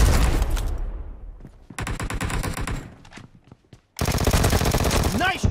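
Bursts of rapid automatic gunfire from the PUBG Mobile video game, three loud stuttering volleys separated by short pauses, with game voice effects woven in.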